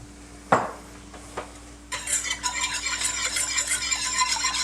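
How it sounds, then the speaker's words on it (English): A whisk scrapes and clinks against a pan of Parmesan sauce, a few soft taps first, then steady rapid metallic stirring with a sizzling hiss, close and fairly quiet. "Give it a little whisk."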